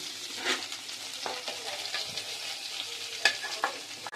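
Fried cauliflower is lifted out of hot oil in a pan, with a continuous bubbling sizzle and intermittent utensil scrapes and light clinks, close and alone.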